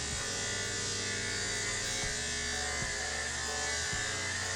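Electric dog clippers run steadily as they trim the coat of a medium-sized long-haired dog, passed from head to tail; a loud, continuous close-up buzz with slight dips as the blade moves.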